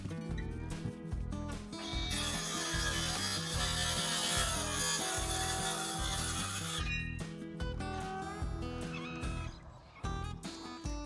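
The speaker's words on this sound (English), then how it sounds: "Now it's time to cut off the excess wood." Excess wood is sawn off while building a garden house, a sustained rasping, scraping cut lasting several seconds over a steady background of music, followed by scattered knocks.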